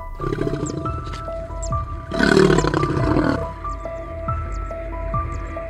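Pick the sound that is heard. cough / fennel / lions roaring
lions roaring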